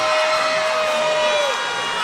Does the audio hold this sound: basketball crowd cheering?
yes